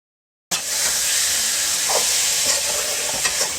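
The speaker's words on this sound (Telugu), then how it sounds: "ముందుగా ఆనియన్స్, చిల్లీస్ అన్నీ కూడా ఫ్రై అయిపోతూ ఉన్నాయి" Onions, chillies and chicken fry for a chicken curry, a loud continuous hissing sizzle that starts abruptly after a moment of silence, with a few faint clinks of stirring.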